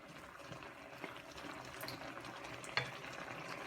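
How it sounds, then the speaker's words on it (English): Mince bubbles gently in a pot as it is stirred, a quiet soft simmer with faint wet pops and an occasional clink of the spoon against the pot. "now you are ready to stir your mince. As you can see, it's bubbling away"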